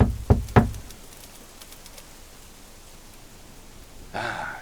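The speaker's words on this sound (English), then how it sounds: "Find what passes for the door and knock on it." Two sharp knocks land on a door in quick succession, close and distinct, followed by a long quiet stretch and a short burst of rustling noise near the end.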